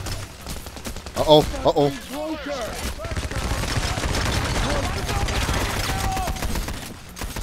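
Heavy gunfire erupts during a bank robbery in the video game Payday, a continuous crackling barrage of rapid shots that stays loud throughout. Excited voices are heard over the firing near the start.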